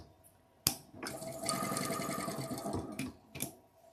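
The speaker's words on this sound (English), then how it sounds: "So let's sew the other side." A sewing machine stitches a seam with a sewing guide fitted, starting with a sharp click into a steady, close whirring run of about two seconds, then further clicks as it stops and resets.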